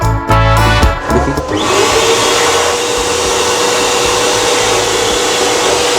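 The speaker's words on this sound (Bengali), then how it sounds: "হ্যান্ড ড্রায়ারটাও দুর্ধর্ষ কাজ করছে।" Electric hand dryer in a Vande Bharat Express train toilet starts up after a brief clatter and then blows as a loud, steady broadband roar that holds without a break.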